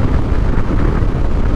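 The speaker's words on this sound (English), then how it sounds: "This is one of the windiest days I've ever ridden on" Heavy, steady wind buffeting a microphone while riding a Harley-Davidson Fat Boy motorcycle, a dense low roar with a constant rush that never lets up.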